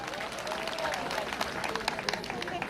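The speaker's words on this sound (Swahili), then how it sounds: "Makofi zaidi kwa Bwana Ntwara." A crowd at a school annual general meeting applauds a guest, a dense patter of clapping mixed with murmuring voices.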